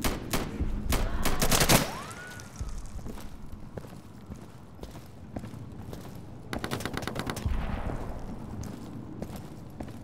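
Gunfire in the video game Insurgency, shooting across a canyon on a workshop map: a sharp loud burst at the start, quieter rattling shots in the middle, then another burst of rapid fire.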